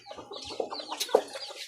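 Backyard chickens cluck in a steady, overlapping chatter at close range, with soft murmuring calls and a few sharper squawks standing out over a quiet outdoor background.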